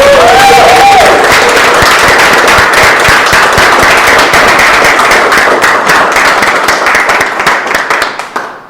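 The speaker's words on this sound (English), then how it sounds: "Let's hear it up, a loud cheer for our Bright Hearts Toastmasters." Dense, loud applause from a club meeting audience honouring the Bright Hearts Toastmasters, a rapid continuous patter of many hands clapping that holds steady for several seconds before thinning out and fading at the end.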